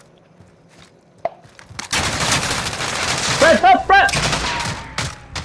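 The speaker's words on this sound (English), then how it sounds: "I was shooting the back of the shield again" Rapid bursts of video game gunfire ring out against a riot shield, loud and rattling in quick volleys after a quiet start, with sharp metallic pings of impacts as players shout over it.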